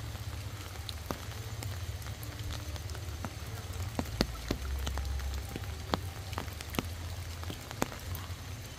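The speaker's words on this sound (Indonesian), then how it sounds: "Hujannya bos ya." Rain falls at an outdoor construction site, giving a steady patter with sharp individual drops striking a surface close by. A low rumble runs underneath the whole time.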